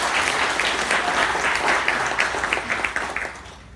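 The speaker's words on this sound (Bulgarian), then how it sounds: "Вашите аплодисменти за Яна." An audience at a book launch in a club breaks into steady applause, a fairly even wash of clapping with a few sharper individual claps standing out, tapering off near the end.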